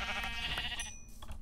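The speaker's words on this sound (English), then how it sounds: "That's a sheep, that's a sheep, that's two sheeps." Sheep bleating in the video game Minecraft, a couple of overlapping bleats close by over a steady game background, with no talk.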